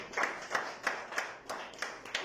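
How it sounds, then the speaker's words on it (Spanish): A church congregation claps in rhythm at a service, a steady run of about seven bursts of group clapping at a moderate, even tempo. "Denle un fuerte aplauso al príncipe de paz."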